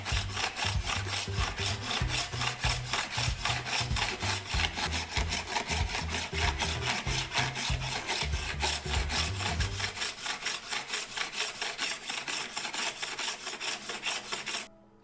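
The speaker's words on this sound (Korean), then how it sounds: "여기를 이제 줄로 다듬어 줄 거예요" A hand file smooths a handmade brass chain bracelet with quick, even back-and-forth strokes. The gritty rasping is close and steady for about fourteen seconds, then stops, with no talking.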